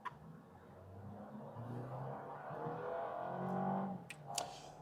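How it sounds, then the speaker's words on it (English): Toyota Land Cruiser Prado with a small engine of about 267 horsepower accelerating hard from 0 to 100 in sports mode, a steady engine drone rising in pitch over several seconds, heard from inside the cabin. "we will try this Land Cruiser Prado from 0 to 100 in 1, 2, 3, go."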